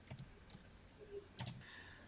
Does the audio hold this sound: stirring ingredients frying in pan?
no